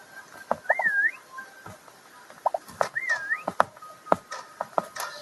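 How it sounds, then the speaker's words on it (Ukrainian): Two short rising-and-falling whistles in a video game sound a couple of seconds apart, scattered among sharp clicks and taps. "я свистю"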